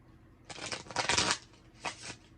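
A deck of tarot cards riffle-shuffled at close range, one long burst of crisp flutter followed by a second shorter one, with no talk.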